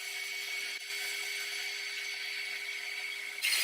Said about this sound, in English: I made the first cut at about half the height of the workpiece, then I flipped it over and made the second cut.